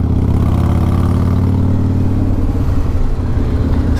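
Harley-Davidson Fat Boy engine under way, a loud, steady low-pitched V-twin throb close up, with a slight shift in pitch and rhythm partway through as speed builds.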